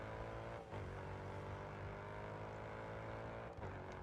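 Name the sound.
performance car engine in GRID Autosport video game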